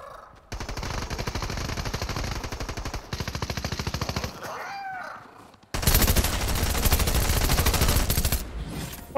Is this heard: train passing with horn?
no